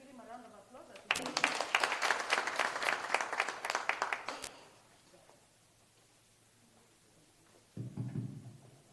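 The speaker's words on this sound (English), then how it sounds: "Let's give him a round of applause" Audience applause at a public-private partnership dialogue event, a burst of clapping lasting a few seconds then fading, with a voice speaking before and after.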